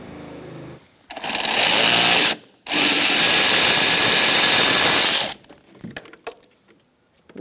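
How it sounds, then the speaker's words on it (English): Power driver with an 8mm socket and extension backing out a bolt on a 2012-2018 Ford Focus 2.0L thermostat housing, two loud close sustained whirring runs split by a brief pause, then quiet clinks of handling. "we're going to take out this bolt"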